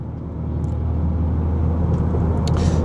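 Steady low rumble of a car driving in heavy multi-lane traffic on a Tampa, Florida road, continuous road and engine noise heard from inside the cabin with no talking.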